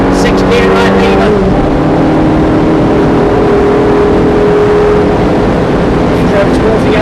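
Ferrari F430 accelerating hard on the Thruxton race circuit, a loud, steady engine roar holding close throughout with rising harmonic tones, under a voice talking over it.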